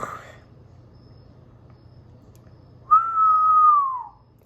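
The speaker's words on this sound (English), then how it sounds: "that whistle was a little bit better" A person whistles a single sustained note that slides slightly downward, clear and close, following a brief faint noise over a low background hum.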